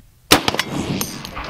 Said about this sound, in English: I'll probably shoot this at the bottom since it's the weakest area